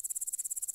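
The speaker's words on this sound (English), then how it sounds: "Grasshopper." A grasshopper chirps in a rapid, even train of about a dozen sharp, high pulses, close and distinct, with nothing else audible.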